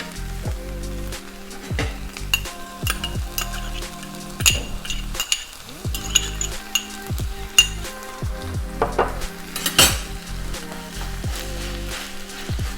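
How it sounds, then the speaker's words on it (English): Meat for an upside-down rice dish sizzles and fries in a pan, a steady close crackle broken by frequent metallic clinks and scrapes of a utensil against the pan. "our meat is almost halfway done, almost done cooking."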